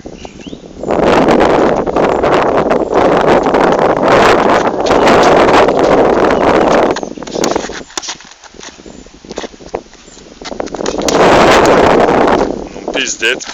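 Strong wind buffets the microphone in loud roaring gusts outdoors, with two long blasts separated by a quieter lull.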